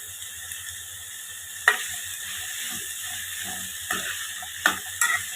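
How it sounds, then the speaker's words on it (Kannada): Bottle gourd vegetables frying in a pan with turmeric, a steady close sizzle with a few sharp scraping stirs and clinks of a utensil against the pan. "ಇದನ್ನು ಒಂದು 2 ನಿಮಿಷ ಫ್ರೈ ಮಾಡ್ಕೊಳ್ಬೇಕು."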